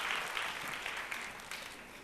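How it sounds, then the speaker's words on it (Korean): A congregation at a church young adults' worship service gives brief, steady applause, a dense even patter of many hands lasting about two seconds. "하나님께 영광의 박수 올려드리겠습니다"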